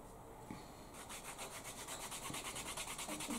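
Cotton buffs a burnished, waxed leather edge, making a faint, close, rhythmic rubbing swish in quick back-and-forth strokes, alone and quiet.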